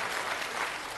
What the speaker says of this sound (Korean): 박수도 치려면 좀 화끈하게 쳐봐.